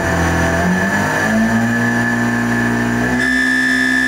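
CNC milling spindle cutting steel, a loud steady whine with sustained harmonic chatter tones that shift pitch partway through as the cut continues, no talking.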